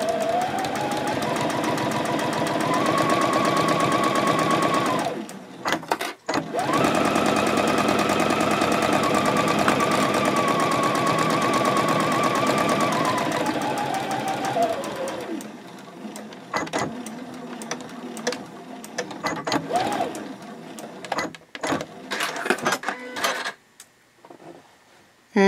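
A sewing machine stitches a seam on a fabric composition notebook cover, running in a long steady whir with a brief stop, then slowing into shorter bursts and clicks toward the end.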